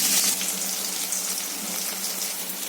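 Finely chopped shallots dropped into hot oil with mustard seeds, urad dal and curry leaves, crackling in a bright, dense hiss that flares at the start and settles into a steady close sizzle.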